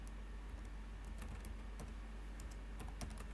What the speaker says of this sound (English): So I will begin by typing.